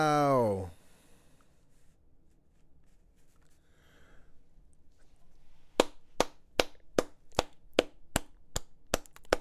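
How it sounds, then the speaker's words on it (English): One person claps in a slow, even rhythm, about a dozen crisp, close claps after a brief voice and a stretch of quiet room noise, while reacting to the State of Origin 2024 Game 2 rugby league match. "All I could do is clap it up for New South Wales, man"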